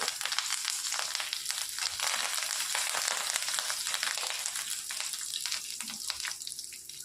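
Fresh curry leaves and green chili crackle and spit in hot oil with garlic for a dhaba-style egg masala curry, a dense close sizzle with sharp popping bursts throughout, no talking.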